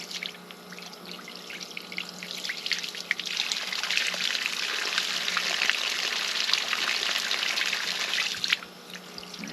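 Water gushes steadily out of a well pipe at a windmill-to-solar conversion in Stratford, Oklahoma, a loud, continuous hissing flow lasting about nine seconds before briefly easing near the end, with no voices.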